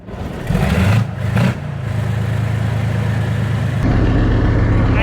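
A T-72 tank's diesel engine cranks and catches with a couple of rough bursts, then settles into a loud, steady, close rumble that swells slightly near the end.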